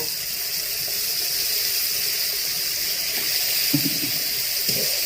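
Water poured into a pan of frying fish curry masala with potato and cauliflower, a steady close gushing and hissing rush lasting throughout with a few soft clanks.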